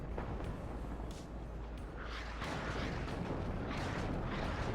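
Artillery shells landing on mortar positions during a WARNO real-time strategy match, a steady, dense rumble of distant blasts and crackling impacts continuing throughout with no pauses.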